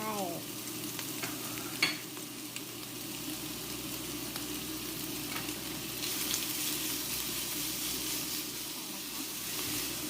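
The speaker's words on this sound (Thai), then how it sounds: "ผัดให้มันหอมหน่อย ใส่เบคอนเข้าไป" Onion and bacon stir-fried in a hot pan in a home kitchen, with a steady close sizzle and occasional scraping stirs and clinks over the frying hiss, no talking.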